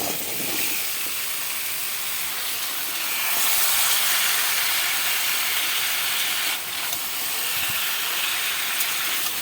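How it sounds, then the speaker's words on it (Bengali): Chopped mixed vegetables hit hot cooked spice masala in a Bengali curry, setting off a loud, hissing sizzle that rises in intensity after a few seconds and then continues steadily. "মশলাটা কষানো হয়ে গেছে, এবার কাটা সবজিগুলো আমি দিয়ে দিচ্ছি।"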